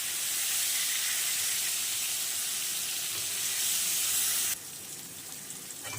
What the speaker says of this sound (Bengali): তেল গরম হয়ে গেছে, এবারে আমি পনিরগুলো ছেড়ে দিচ্ছি।